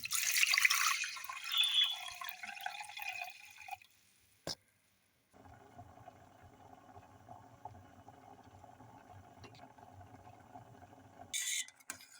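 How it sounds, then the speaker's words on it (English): Water runs and splashes briefly as purple rice is rinsed, then goes quiet before a softer, steady trickling and sloshing continues; no one speaks. "Wash and rinse the rice, add plenty of water, and bring to a boil."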